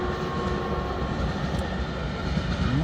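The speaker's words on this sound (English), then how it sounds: "Didn't expect the partial continuous welded rail train to show up" CN 2264, a partially continuous welded rail train, rolls past at Ladysmith, Wisconsin, a loud, steady rumble and clatter of wheels on track, with a faint squeal near the end.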